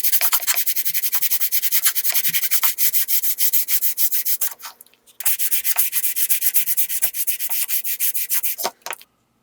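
A Sand It sanding block runs over wood in fast, rhythmic back-and-forth strokes, loud and close, pausing briefly once before the strokes resume and then stop.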